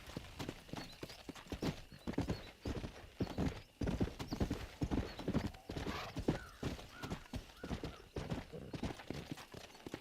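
A horse in the Red Dead Redemption video game trots along with a steady, rapid clip-clop of hooves and an occasional whinny, close and continuous throughout.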